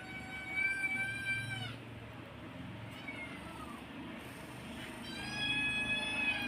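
Several hungry cats meow in repeated high, wavering cries, loud and close at the start and again near the end, with a softer stretch of indoor background noise between.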